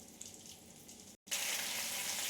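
Prawns fry in a wok with a soft, steady sizzle that cuts out for a moment and then returns louder and fuller, fairly quiet overall and without speech.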